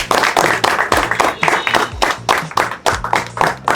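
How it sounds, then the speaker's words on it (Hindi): Audience applause at a crypto community meetup in Hyderabad, loud and close with dense uneven clapping, while a low voice or music sits underneath throughout. "तालियां हो जाए।"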